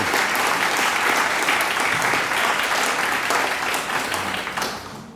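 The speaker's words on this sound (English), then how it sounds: "Please give a big round of applause" A crowd at a YMCA annual meeting applauds steadily, dense clapping that holds and then begins to fade toward the end.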